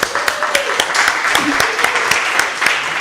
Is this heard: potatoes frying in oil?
no